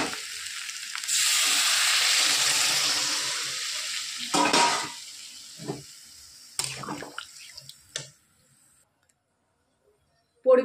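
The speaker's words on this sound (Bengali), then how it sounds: "এবার দিয়ে দেবো পরিমাণ মতো জল।" Water is poured into a pan of spices fried for an aloo and ol kochu curry, setting off a loud hiss that fades, followed by short stirring scrapes and clatters, then near silence.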